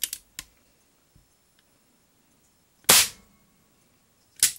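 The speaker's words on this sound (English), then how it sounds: "Don't want to speed up my shooting too much" A Crosman air gun fires indoors: sharp, close cracks, one at the start and two more spaced seconds apart, with faint clicks of handling between them.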